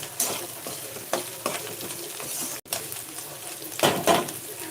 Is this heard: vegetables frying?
yes